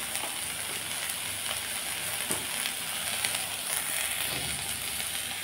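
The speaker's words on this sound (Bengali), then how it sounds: "মাছ ভেজে নিলাম, চিংড়ি মাছ ভেজে নিলাম।" Shrimp fry in hot oil seasoned with turmeric and salt, a loud, dense, continuous sizzle with crackling pops, close by and steady throughout.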